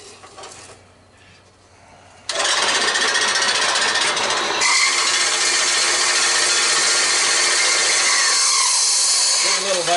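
A Harbor Freight band saw cuts scrap metal up close, its loud continuous grinding buzz kicking in after a quieter start and running steadily to the end with a slight pitch shift midway.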